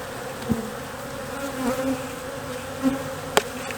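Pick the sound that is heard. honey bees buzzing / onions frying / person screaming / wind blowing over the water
honey bees buzzing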